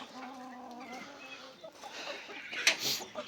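A rooster near a farm coop gives harmonic calls and clucks, joined by other fowl, with a sharp louder burst toward the end and some background voices.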